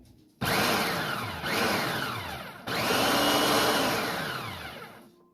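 A food processor runs in continuous bursts while melted butter, seven tablespoons, is poured into graham cracker crumbs. The steady loud whir pauses briefly twice, then restarts and tails off, with no talk.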